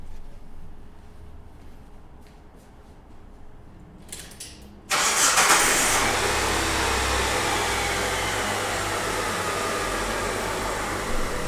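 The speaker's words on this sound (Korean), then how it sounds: "이렇게 준비가 완료됐으면 차량 시동을 걸고 오도록 하겠습니다" A car engine cranks and fires up after a few faint clicks, then settles into a steady, loud idle that drones on close by with no talk.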